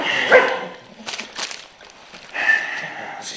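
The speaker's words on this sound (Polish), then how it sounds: "Chciałem Państwu pokazać dzisiaj mojego psa." A dog barks in a few short, separate bursts spread over a few seconds, close and fairly loud, with quieter gaps between them.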